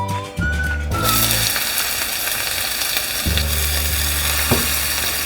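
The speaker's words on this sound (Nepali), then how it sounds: "प्याजलाई अब हल्का ब्राउन गरौँ।" Finely chopped onions with a bay leaf frying in hot oil for an egg curry, a steady loud sizzle throughout, with a low hum and faint whistle-like tones near the start.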